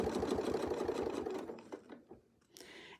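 A quilting sewing machine stitches along a Westalee ruler, a fast steady needle rhythm running close and loud for about a second and a half, then slowing into a few separate stitches with a brief burst near the end.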